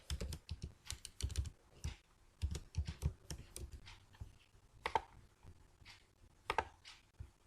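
Computer keyboard keys clatter in quick irregular bursts while Python dictionary code is typed, close and fairly crisp, with short pauses between runs of keystrokes and no speech.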